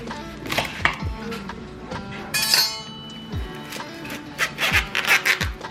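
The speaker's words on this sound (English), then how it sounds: "We are currently removing the shucks from corn." Corn cobs being shucked by hand in a kitchen, with repeated rubbing, tearing rustles of husks and occasional crisp ripping bursts, close and fairly loud with no talk.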